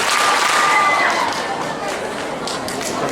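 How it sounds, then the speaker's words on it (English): Crowd at a youth candidates' speech event gives applause and cheering after a speech, a steady loud wash of clapping and crowd noise throughout. "Let's get 2 big claps for that speech."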